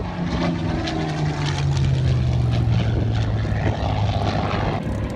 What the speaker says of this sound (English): Here comes another Spitfire, he's waving at us.